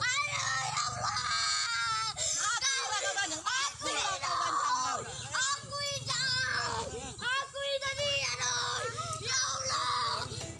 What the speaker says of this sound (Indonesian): Korban berteriak meminta ampun dan menangis agar tidak dianiaya.